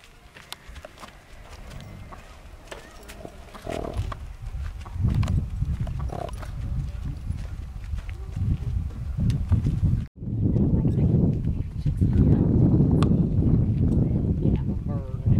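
Horse hooves clip-clop steadily along a trail, close and fairly loud, with a person talking over the hoofbeats and wind-like rumble throughout.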